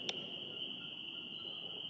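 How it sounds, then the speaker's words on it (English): Crickets chirping outdoors at dusk beside a home deck, a steady, continuous high trill held at an even level throughout, with a single brief click near the start and no voices. "Do you guys hear the crickets?"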